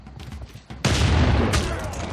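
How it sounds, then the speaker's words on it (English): Bombard attack in the strategy game Civilization VI: a few soft thuds, then a sudden loud blast that swells into a sustained rumbling barrage of explosive noise lasting over a second. "You can definitely bombard."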